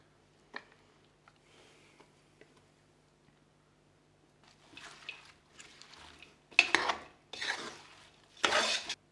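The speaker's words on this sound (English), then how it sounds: "mix it all together so it's every single bit of vegetable has a bit of the paste on it, coated nicely" Kimchi paste being mixed by hand into cabbage, daikon, carrots and chives, quiet at first with a few small ticks, then increasingly wet, squelchy stirring bursts close by.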